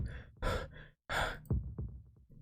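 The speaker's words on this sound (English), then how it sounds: "My breathing is wild and my heart screams out." Heavy, ragged breathing from the Tsukihime visual novel: rough gasps and sighing exhales in quick bursts with a short pause between, close and fairly loud, no speech.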